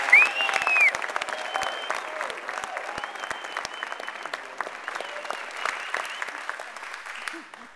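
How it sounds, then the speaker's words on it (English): An audience applauds Brian Kilone, the state chairman, at an NM SCC meeting in Socorro, with sustained clapping that is loudest at the start and tapers off toward the end. Faint voices and cheers rise now and then above the clapping. "would you give Brian Kilone a big round of applause?"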